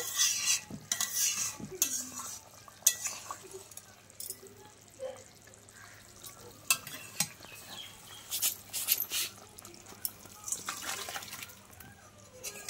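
Rohu fish curry with potato and pointed gourd cooking in a covered pot on the stove, a faint bubbling simmer broken by scattered clinks and scraping stirs, with quiet speech now and then.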